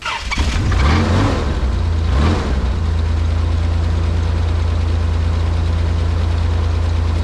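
A 1988 Toyota FJ62 Land Cruiser with no exhaust system and a dead battery runs close by, blipping its throttle twice early on before settling into a loud, steady, raw idle.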